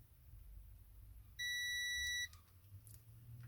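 A multimeter gives a single sharp continuity beep of just under a second as its probes are touched together, clear against a quiet room.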